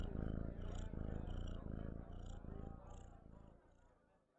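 A cat named Jorts purrs contentedly in a rhythmic, close, low rumble of repeated breaths, steady at first and fading softly toward the end.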